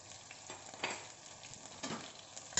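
Garlic ginger paste, turmeric powder and salt fry in a pan with a soft, continuous sizzle, and faint scrapes and knocks come from stirring.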